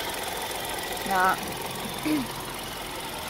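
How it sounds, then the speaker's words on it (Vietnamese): A 2016 Hyundai i10 with a 1.0-litre three-cylinder engine idles with a smooth, steady low hum, and someone speaks briefly over it. "Máy nổ rất là êm luôn."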